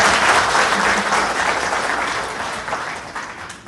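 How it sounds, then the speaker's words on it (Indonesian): Loud, dense applause from a large audience at a comedy stage show in Indonesia, many hands clapping in a continuous wash that fades slightly toward the end, with no talk over it. "Tepuk tangan untuk beliau dulu ya."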